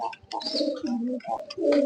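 Pigeons, young silver-coloured birds, coo close by in a loft, several soft throaty rolling coos following one another in quick succession at moderate loudness.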